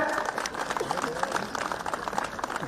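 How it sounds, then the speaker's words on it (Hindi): A large crowd at an outdoor political rally in Shimla applauds steadily, the dense clapping blending into a continuous wash with voices mixed through it. "तालियों के बीच में तालियां बजती रहे"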